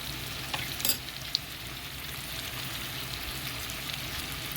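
Stuffed bombar fries in oil, a constant close hiss and bubbling sizzle with a couple of brief clinks early on, no voices.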